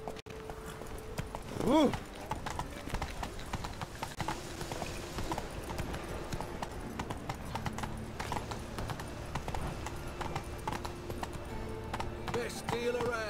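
Roach the horse from The Witcher 3 walks with a continuous rhythm of hoof clip-clops and whinnies once near the start, while in-game voices talk over it.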